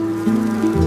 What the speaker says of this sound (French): Les abeilles bourdonnent tranquillement partout.